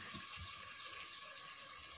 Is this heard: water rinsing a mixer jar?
yes